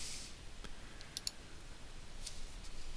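A computer mouse gives a few faint, sharp clicks over quiet room hiss, the clicks spaced irregularly across a few seconds.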